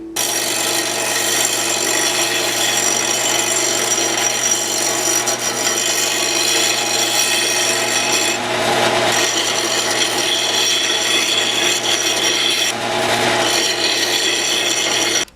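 A metal part in a restoration job being shaped to a radius by filing or sanding, giving a continuous abrasive rasping with a steady tonal hum beneath, nearby and loud, dipping briefly twice as the stroke changes.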